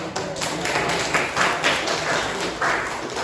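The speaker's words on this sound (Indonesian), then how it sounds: "beri tepuk tangan" Applause from a classroom audience at an academic supervision session, a steady wash of many hands clapping at moderate loudness, swelling slightly in places, with no talk over it.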